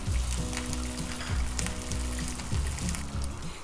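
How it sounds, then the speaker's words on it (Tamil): Cauliflower pieces and curry leaves deep fry in hot oil, giving a steady, dense sizzle and bubbling crackle with soft rhythmic pops throughout, close and moderately loud with no voices. "இப்போ இதுக்கு மேலே நம்ம கருவேப்பிலை போட்டு ஃப்ரை ஆக விடுவோம்."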